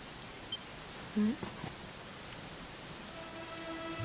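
Steady rain in the video game Dragon Quest XI hisses across the whole stretch, a dense wash of falling drops with a few faint, brief tonal game sounds above it.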